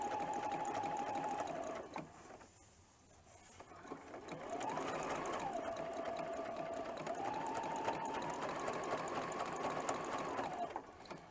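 A sewing machine runs steadily, stitching a zigzag applique edge on quilt fabric, pausing briefly near the start and then resuming with an even, close mechanical whir.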